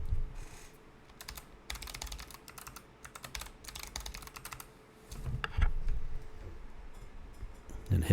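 Rapid bursts of keystrokes on a computer keyboard while a password is entered, clattering in quick clusters with short pauses, close and fairly quiet, with no voices.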